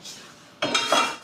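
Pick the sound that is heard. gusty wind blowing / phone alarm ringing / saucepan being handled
saucepan being handled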